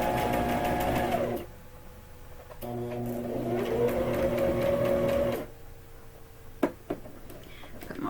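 A sewing machine stitches a quillow, its steady motor whir and rapid needle clatter running in two long bursts with a quieter pause between and a few light clicks near the end.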